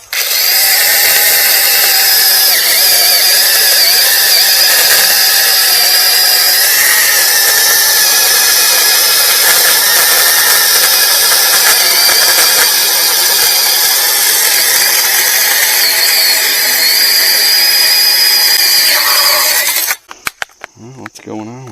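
A Sainlogic 21-volt brushless mini chainsaw with a 6-inch bar cuts steadily, its loud, continuous high-pitched motor whine running for about twenty seconds before it stops abruptly.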